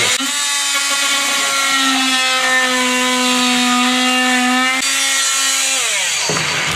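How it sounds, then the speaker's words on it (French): An oscillating multi-tool fitted with a saw blade cuts through a nail, giving a loud, steady, high-pitched buzzing whine that holds for about six seconds before stopping abruptly. "on va prendre une oscillante avec une lame de scie. Et on va couper un clou qui nous gêne."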